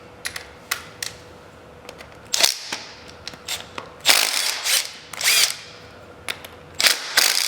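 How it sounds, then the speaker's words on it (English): Quarter-inch Allen key socket on a ratchet backing out the inner bolts of a StrikeForce powerchair rear drive tire: close, dry ratcheting clicks in short irregular bursts, several louder rapid runs, with no talk. "take your 1/4 inch Allen key socket and remove the tire, and it's these inner 4 bolts right here that you take out"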